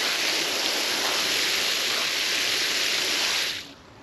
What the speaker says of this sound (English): So now we're going to water it in.